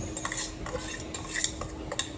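A metal spoon stirs soaked semolina (rava) in a cooking pot, with repeated scraping and clinking against the pot at close range and a faint steady hum underneath, with no speech.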